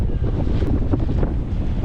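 Strong wind roars and buffets the microphone in a steady low rumble on the Rua das Lorchas waterfront in Macau, with a faint sense of open water nearby and no voices.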